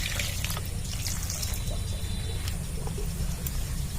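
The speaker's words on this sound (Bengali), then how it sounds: "জল দিয়ে ভালো করে ধুয়ে নেব।" A ridge gourd is washed under running water, a steady close trickle and splash continuing throughout over a low rumble, with faint knocks of the vegetable being handled.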